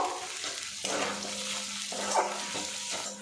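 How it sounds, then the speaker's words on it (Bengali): Ground spice paste with Kashmiri red chilli powder fries in oil for potato dum, stirred with a utensil that scrapes the pan in a few distinct strokes over a low, close sizzle. "আবারও নাড়াচাড়া করে নেব"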